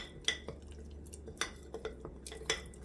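A spoon stirs flour and water together in a bowl for homemade yeast, giving a few sparse, quiet clinks and scrapes against the dish with soft wet stirring between them, close by and with no talking.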